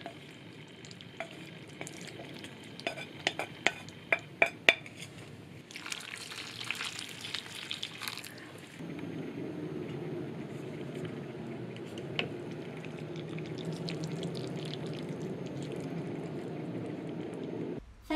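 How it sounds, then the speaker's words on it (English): Noodles with fried egg and tomato clatter and scrape in a pan, with scattered sharp clinks from stirring; then water goes in and the sound turns into a steady, broad bubbling sizzle. "Sixth step, put the noodles and fried eggs and tomatoes in and add some water."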